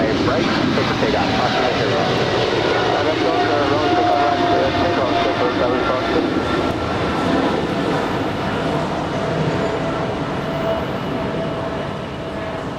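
A heavy jet rolls for takeoff on runway 25 right at Los Angeles International Airport, a loud, steady engine roar filling the air nearby and holding throughout, with faint tower radio chatter beneath.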